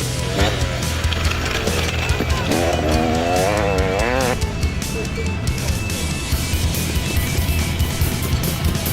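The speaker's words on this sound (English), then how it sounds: "There goes Johan Buitendup. Same thing. And a nice little wheelie" An off-road motorcycle at a race rides away after a wheelie, its engine revving up in a climbing whine before settling into a steady, loud drone over the surrounding noise.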